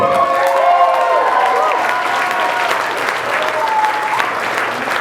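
Comedy club audience at Wiseguy's Downtown breaks into loud, sustained applause with some cheering, a dense wash of clapping that stays steady throughout, with faint voices mixed in.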